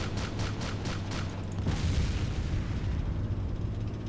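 Heavy weapon fire in the ARMA 2 Wasteland game on Chernarus, a rapid burst of loud booming shots followed by a sustained rumbling roar, dense and close, with no talking.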